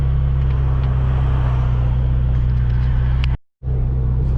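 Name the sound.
Ferrari engine running while driving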